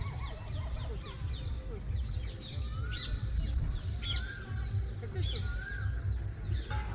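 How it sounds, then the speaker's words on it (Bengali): Ducks bathing on a pond beside a temple, giving faint honking and quacking calls over steady outdoor rumble and background voices, with several short bird calls scattered through. "ওই যে হাঁস জলে"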